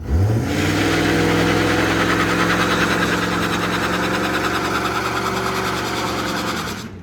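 Truck engine with a welded front differential, idling and revving steadily up close with a rough, spluttering, uneven rumble that holds for about seven seconds before cutting off.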